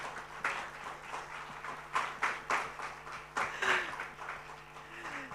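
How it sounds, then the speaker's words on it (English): Audience clapping at an education launch event in Mumbai, moderate applause in uneven bursts with a faint voice underneath. "let's have a huge round of applause, everybody in the audience"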